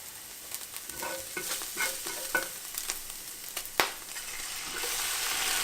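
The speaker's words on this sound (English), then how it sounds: "We're going to let the garlic cook on its own for maybe 10-15 seconds, just long enough where it starts getting aromatic" Chopped garlic frying in hot oil in a pan for chicken pad thai gives a steady close sizzle, broken by scattered scrapes and clicks of stirring, with no one talking.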